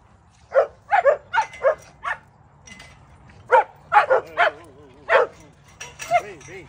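A husky with its head out of a car sunroof lets out a series of excited yips and whiny howling vocalizations, about a dozen short bursts in two clusters over low vehicle rumble, with people talking nearby.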